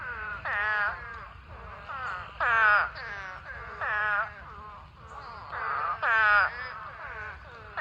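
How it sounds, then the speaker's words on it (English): Repeated nasal, wailing calls from a male spadefoot toad, each a second or so long, coming in close succession over a low background rumble at a pond. "That's the toad calling."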